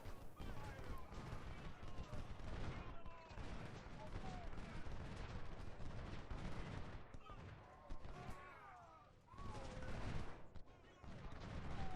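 Dense, continuous volleys of infantry musket fire and artillery booms from a Civil War battle at Shiloh in Ultimate General: Civil War, loud and sustained throughout with other sounds mixed in.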